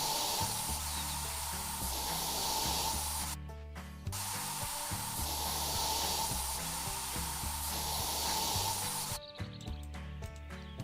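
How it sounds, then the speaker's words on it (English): Spray paint hisses from a can in the Yard Sale Simulator game, a long steady spray broken by two short pauses, with a faint looping music bed underneath. "I love our endless supply of spray paint."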